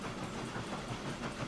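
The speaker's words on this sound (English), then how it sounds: "I think this train is going to actually end up reversing all the way to" A train rolls along in the railway simulation game Transport Fever 2, a steady faint rumble and hiss with soft rhythmic clatter of wheels on track, no voices.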